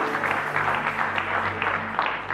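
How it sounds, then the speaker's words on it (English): A church congregation claps its hands in praise after a prayer, giving a steady burst of applause that fills the room, with a low musical hum underneath. "Come on, give the Lord a big hand clap of praise."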